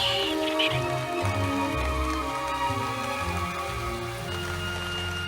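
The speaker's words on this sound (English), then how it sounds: "Even having to roost in the torrential rain." Torrential rain pours steadily in a dense, wet forest, a constant loud wash of drops with low rumbling undertones and no talking.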